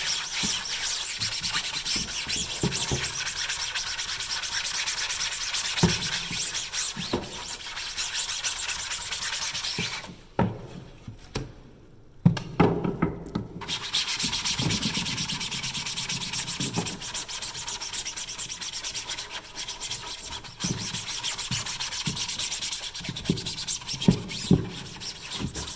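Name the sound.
scrubbing a coated printmaking screen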